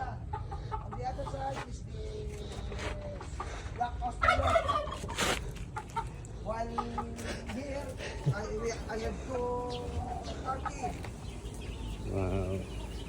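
Turkeys gobbling inside their coop with chickens clucking nearby, repeated rattling gobbles close by amid a busy poultry chorus while a person talks over the birds.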